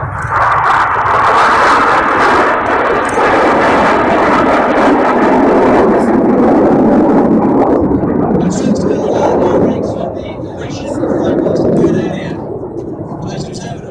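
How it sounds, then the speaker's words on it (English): Red Arrows jets roaring past at an air show: a loud, sustained broadband jet roar that swells and holds for most of the pass, then eases slightly, with a commentator's voice over the top. "a single jet who is Red 9, who's going to fly in Enid's V"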